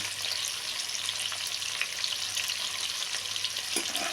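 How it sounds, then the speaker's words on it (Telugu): Hotel-style prawn fried rice is stir-fried in a pan, with a dense, even crackling sizzle and light stirring noises close up and no voices. "అలా కలుపుతా వేపుకుంటే మాడకుండా కలుపు క్రిస్పీ అయ్యేటట్టు వేసుకుంటే మన ఫ్రైడ్ రైస్కి బాగుంటుందండి"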